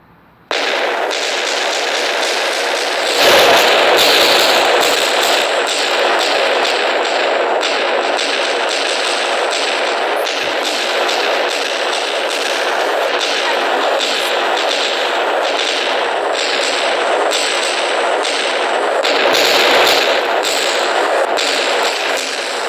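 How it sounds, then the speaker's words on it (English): TNT nuke explosions in a video game set off in a loud, dense barrage, with many booming blasts and crackling bursts overlapping continuously for over twenty seconds. "Let's see how big the explosion is."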